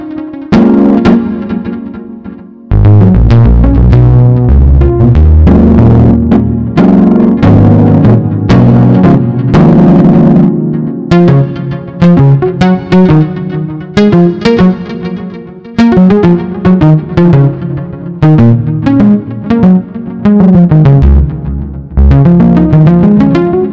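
A Korg Nautilus keyboard plays a program patch with insert effects applied, producing loud, distorted chords and melodic lines with echo that run continuously after a short opening phrase, with no talking over it.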